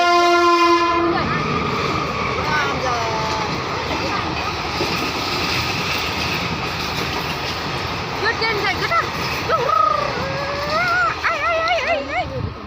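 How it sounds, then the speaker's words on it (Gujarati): A train sounds a loud horn blast, then rumbles and clatters past at close range for a long stretch while a dog barks and people talk over it. "ફાઇનલી ટ્રેન આવે"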